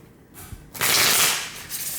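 A deck of tarot cards is shuffled close up: a quiet shuffle, then a loud, rushing riffle for about a second, then a softer trailing burst.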